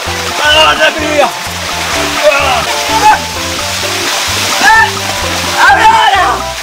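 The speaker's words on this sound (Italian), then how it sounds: "Dobbiamo passare sotto quel tunnel d'acqua!" Water splashes and pours from a water tunnel inside an escape room game, a steady wet rush under excited voices and shouting, with music-like tones running throughout.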